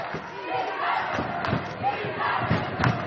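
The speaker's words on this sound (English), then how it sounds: "Crowd getting into it here this afternoon." Crowd noise swells and cheers throughout a college men's basketball game between Earlham and Manchester, with scattered thuds and ball bounces mixed into the steady roar and commentary-like voices underneath.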